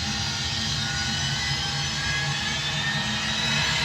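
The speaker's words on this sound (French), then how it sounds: "Avion à décoller." A jet airplane engine roars steadily at takeoff power, a loud, continuous broadband rush with a high whine running through it.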